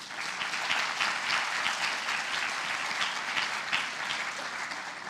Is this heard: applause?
yes